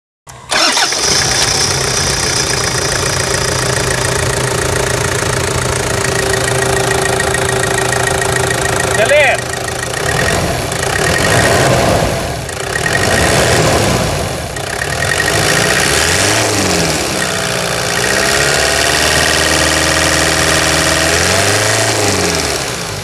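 A Toyota SW4 diesel engine cranks, catches and settles into a loud, close, steady idle with a few brief revs partway through, while people talk over it.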